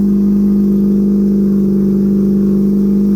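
A 12A turbo rotary engine in a Datsun 1200 runs loud and close, holding a steady buzzing drone at high revs throughout with no talk.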